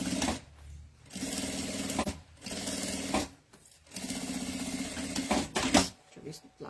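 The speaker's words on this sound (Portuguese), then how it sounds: "Vou passar uma costura aqui com um pé de máquina." Domestic sewing machine stitching a straight seam on a zippered pouch, running in several steady bursts of rapid needle chatter separated by short pauses, close and clear.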